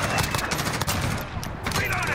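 Rapid M4A1 rifle fire in the video game Call of Duty Modern Warfare, loud dense shots in quick succession with game ambience, lasting a couple of seconds.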